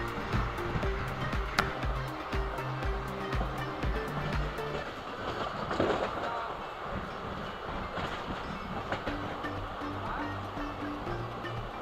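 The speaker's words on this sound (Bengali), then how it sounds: "ট্রেন এখন ঢুকছে করণপুরাটো স্টেশনে।" A passenger train rolling into Karanpura station, with a steady rumble and rhythmic wheel clatter throughout and faint voices in the background.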